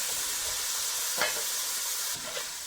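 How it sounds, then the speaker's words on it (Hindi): Vegetable pulao frying in a pan gives off a steady, bright sizzling hiss, with a couple of brief stirring scrapes close by. "इसको अच्छी तरह से आपने फ्राई कर लेना है"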